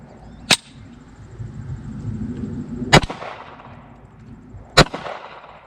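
Three sharp .45 ACP pistol shots fired with Servisios primers at a gopher target, spaced about two seconds apart, each a loud crack with a short decaying tail over faint background noise.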